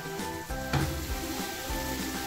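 Boiled kidney beans tipped into a hot spiced tempering for rajma, giving a steady close sizzle and frying crackle with a brief louder burst as they land, no talking.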